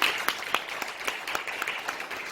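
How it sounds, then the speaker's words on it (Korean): A small room of people clapping at a church lecture, scattered and uneven, sustained for a couple of seconds at moderate volume. "박수 한번 하셔야 되지 않겠습니까?"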